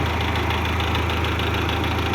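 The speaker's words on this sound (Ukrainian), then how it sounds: "Дивіться, оці трактори." An MTZ tractor engine idling up close, a loud, steady diesel rumble with an even mechanical knock and no variation in pace.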